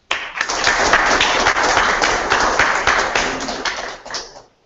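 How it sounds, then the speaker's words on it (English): Audience applause at a campus Peace Day festival, a dense steady burst of many hands clapping that holds for about four seconds and then fades out. "Let's give them a round of applause,"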